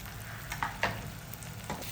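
Ginger and garlic sauté in hot oil for an egg curry, a soft, quiet sizzle with a few faint stirring scrapes, no talking.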